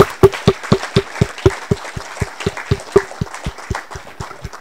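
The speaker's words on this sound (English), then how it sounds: "Round of applause." A small audience at a GNU Radio meetup in San Diego claps in a loose, even rhythm of sharp, close hand claps that gradually thin out and soften toward the end.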